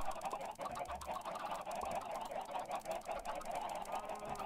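Minecraft chickens clucking and squawking in a dense, continuous flock, a loud layered chorus of bird calls with no talk over it.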